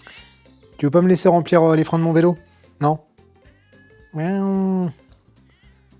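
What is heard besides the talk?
neighbours' cat meowing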